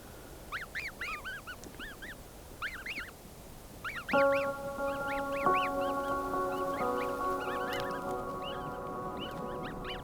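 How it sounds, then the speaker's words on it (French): Snow geese and newly hatched goslings call together, rapid high peeping trills from the young repeating throughout while adult honks break in midway with sustained, layered calls over a noisy outdoor background. "voir les oies dans leurs premiers instants de vie"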